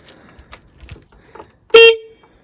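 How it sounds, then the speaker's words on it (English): A newly fitted horn on an Aprilia Habana scooter gives one short, loud beep lasting about a quarter second, after quiet workshop movement and faint handling noises. "Got a new horn"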